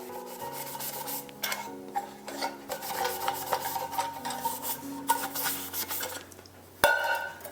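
Scrubbing baked-on soot from an ultralight titanium cup with a magic eraser: close, steady rasping rubs in quick irregular strokes, with a sharper scrape near the end.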